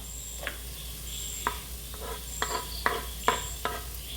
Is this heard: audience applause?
no